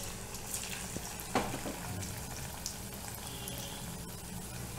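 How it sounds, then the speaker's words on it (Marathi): Veg Manchurian balls made with potato frying in oil over a low flame, a soft steady sizzle with a few faint pops and a small clink partway through. "आता आपण एक एक बॉल तळून घेणार आहे"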